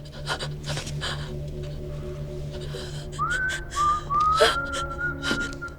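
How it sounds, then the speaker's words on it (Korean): A thin, clear whistle rises and holds in a few short phrases over a steady low hum of background noise, with scattered faint clicks. "또 휘파람 소리."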